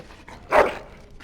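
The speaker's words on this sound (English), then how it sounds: "Bloody dog." A single short, sharp dog bark, close and alone, in the video game Dragon Age: Origins.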